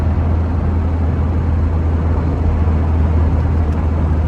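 A 1939 Citroen Traction Avant Light 12 rolls over a big road bump, its engine rumble and road noise staying loud and continuous, with only a faint brief thud and no voices.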